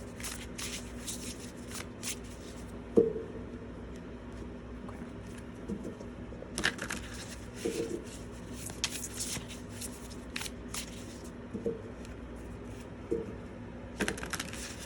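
A deck of oracle cards is shuffled by hand, with soft, close rustling and occasional sharper clacks against a steady low background hum.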